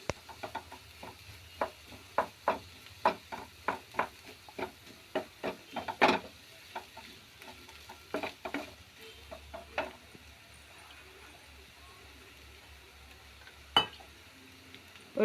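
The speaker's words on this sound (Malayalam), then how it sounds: "നല്ലപോലെ വഴറ്റി കൊടുക്കുക." Mashed boiled potato and spices are stirred in a pan with a spoon, making a string of sharp, faint scraping taps at an irregular rhythm, quiet and close, with no voices.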